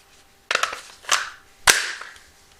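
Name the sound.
AR-15 magazine inserted into rifle magazine well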